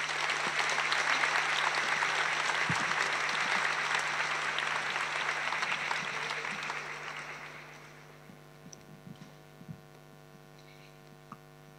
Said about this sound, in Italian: ovviamente accogliamo con un applauso